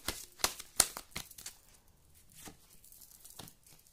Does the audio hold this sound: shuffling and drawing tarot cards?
yes